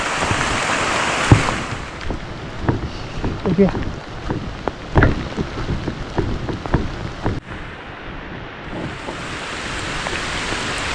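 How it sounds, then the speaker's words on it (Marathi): Steady rain hisses across the whole clip, with scattered drops and taps pattering nearby and a faint low rumble underneath. "पाऊस कमी व्हायचा नाव नाही पाऊस वाढतच चाललाय"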